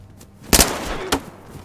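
Two sharp gunshots in the video game DayZ, one loud crack followed by a second, weaker report about half a second later, with faint game ambience between them.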